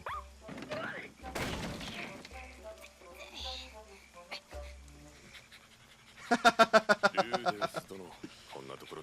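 A dog in an anime episode pants and yelps, then a rapid run of sharp, high barks comes near the end, over background voices and soundtrack.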